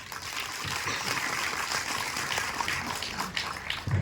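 At the audio launch of the Malayalam film Thalavan, a crowd gives a sustained round of applause. The clapping is dense and even, and there is no clear talk over it.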